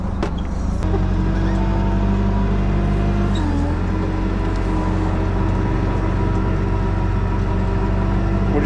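A forklift engine runs steadily and loudly nearby as the machine is driven, a constant low rumble with a brief clunk early on and a shift in pitch partway through.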